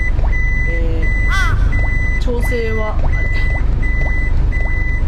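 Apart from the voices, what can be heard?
car reversing beeps while backing up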